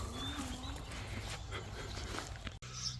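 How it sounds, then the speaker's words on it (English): Dogs bark at a farm in rural Thailand, a steady outdoor chorus blended into a busy, noisy background without distinct separate barks. "Mad dogs."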